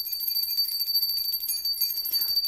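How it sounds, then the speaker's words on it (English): A small bell rung to cleanse a space, a bright, high, shimmering ring that rings out steadily and then fades toward the end, heard alone and close. "So we do so with the little bell today."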